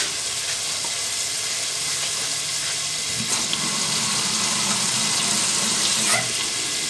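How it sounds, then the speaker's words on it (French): Water pours into a cooking pot of Congolese-style purslane with tomato and fish, a steady rushing stream under a faint background hiss that lasts several seconds, no talk. "puis ensuite je vais mettre de l'eau, puis je vais laisser cuire tout ça ensemble à couvert"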